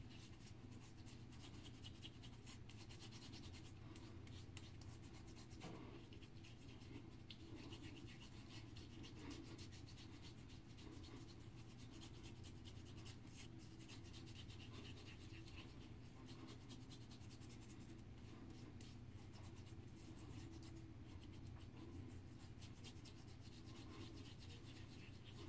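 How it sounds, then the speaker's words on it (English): Peppermint shaving cream rubbed over a face in circular motions, a continuous close, soft rubbing hiss that stays steady and quiet throughout. "Rub it all over my face in a circular motion."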